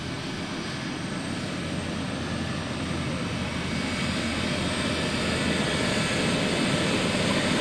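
A steady, loud roar of C-17 military transport aircraft engines during takeoff fills the air without pause, gradually growing a little louder.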